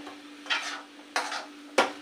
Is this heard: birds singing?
no